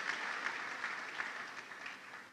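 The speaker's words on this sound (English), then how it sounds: "I want to humbly plead that we give a clap to this unique group" An audience at a university e-learning week event claps together in a steady, fairly distant round of applause that fades slightly toward the end.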